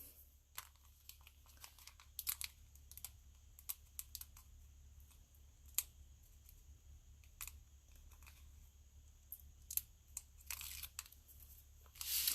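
Backing peeled off double-sided tear and tape adhesive in a papercraft project, faint close crackles and sharp ticks scattered over quiet room hum, with a louder crinkling rustle near the end.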